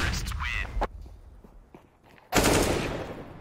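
AK-47 fire in a Counter-Strike match, loud rapid bursts at the start, a quieter gap with scattered footsteps and clicks, then another long dense burst of automatic fire.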